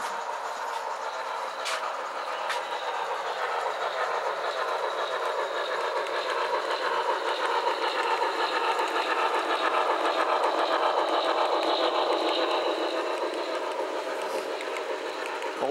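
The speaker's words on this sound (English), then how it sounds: "Coal train is passing a small town area with a yard for the HOn3." A steady mechanical rumble and whir of an HO scale model coal train running continuously, with faint rhythmic clicking of wheels on track, fairly close and even in volume.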